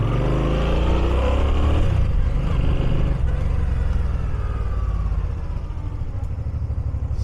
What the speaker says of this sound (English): And we'll give it a little bit of throttle. And plenty of power.